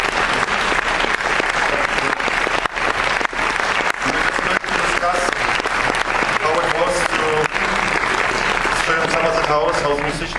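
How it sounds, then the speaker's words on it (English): A festival audience at a Berlinale Q&A gives sustained, enthusiastic applause that fills the room for the full stretch, with voices and some cheering faintly audible beneath the clapping. "No, first, applause for him because he just was very spontaneous."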